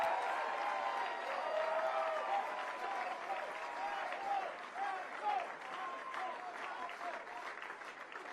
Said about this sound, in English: Big round of applause for Michael Henry.